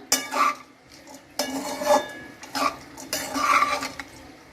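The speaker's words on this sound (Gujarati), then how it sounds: "હવે આને એકદમ સરસ આપણે મિક્સ કરી દઈશું આ રીતના" Sabudana khichdi with coarsely crushed peanuts is stirred in a pan, a spoon scraping and clinking against the metal in several close, distinct bursts with short pauses between.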